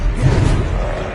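A spell cast in the Hogwarts Legacy video game, heard as a steady, full-bodied magical whoosh with a low rumble that holds at moderate loudness for over a second, with no talk over it.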